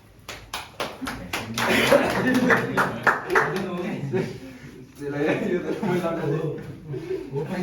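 Audience applause at a cricket club's annual meeting and awards ceremony, with sharp, distinct hand claps in bursts across the clip, sometimes close, mixed with a chuckle and a speaking voice.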